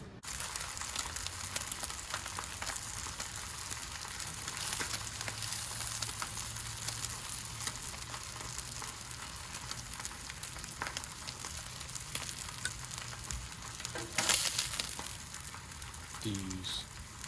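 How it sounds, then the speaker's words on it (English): Black pepper maple bacon frying on a Blackstone griddle, a steady broadband sizzle and crackle running throughout at moderate, close volume, with a brief louder burst of popping near the end. "I've got the Blackstone fired up. We're gonna go fry these up."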